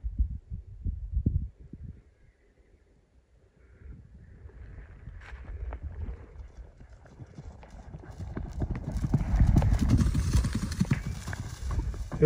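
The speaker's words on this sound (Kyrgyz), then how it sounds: "Аттын чуркагандары, өзүн алып жүргөндөрү баары жакшы экен." A horse gallops with hoofbeats thudding over the ground, faint at first, then a quiet gap, then building into steady loud drumming nearby, with people talking in the background.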